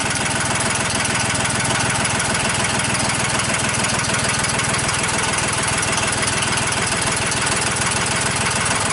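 A John Deere 1050 tractor engine idles steadily while warming up, a close, loud, continuous diesel chug with a rapid knocking rhythm and broad rattle, running alone without any talk.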